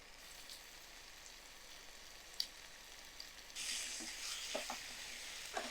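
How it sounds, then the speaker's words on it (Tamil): Diced carrot, beans, cauliflower and potato sauté in a pan for oats vegetable pulao. A faint, steady sizzle is heard, with a few soft stirring scrapes and louder crackling in the second half. "ஒரு 1 நிமிஷம் நல்லா நமக்கு வதங்கட்டும்."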